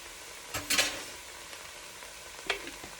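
Jarred chopped garlic cooking in a pot for Italian sausage soup: a faint, quiet sizzle with two brief scraping stirs of a spoon against the pot.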